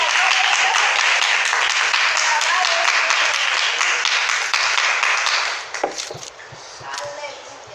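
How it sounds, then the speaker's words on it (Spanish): A church congregation applauds during a fasting service, dense steady clapping filling the room for several seconds before fading into scattered claps and quieter voices. "Hay palmas para Cristo esta mañana."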